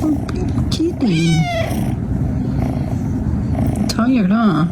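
A kitten meows several times in short rising and falling cries, close and clear, with a soft purr beneath and a person speaking to it in between.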